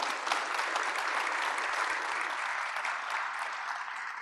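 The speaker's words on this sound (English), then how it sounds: "kindly give you a warm applause to all of the panel members here" A conference audience applauds panel members at a ministerial meeting on civil registration and vital statistics, a steady, dense round of clapping from many hands that holds evenly throughout.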